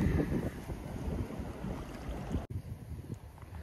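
Breeze gusting across a lakeside at Bluebell Lakes in winter, steady rushing wind buffeting the microphone with a brief dropout near the middle, no voices present.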